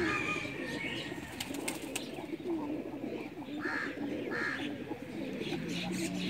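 A Pakistani flying pigeon coos in soft, low bursts between brief flutters of flapping wings, heard close up with voices talking in the background.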